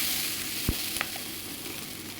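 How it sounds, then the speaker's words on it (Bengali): A fish curry masala sizzles steadily as it is stir-fried in a pan with a splash of water, with a few sharp scraping clicks of the spoon over the hiss. No one speaks. "এটাকে আমি একটু নেড়ে নেবো নেড়ে কষিয়ে নিচ্ছি"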